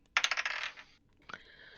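Dice clattering across a hard table, a quick burst of rattling bounces that settles, followed by a short ringing clink as they come to rest, close and alone.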